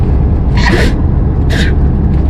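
Two sharp sneezes in quick succession inside a moving truck cab, loud and close over a steady low engine and road rumble.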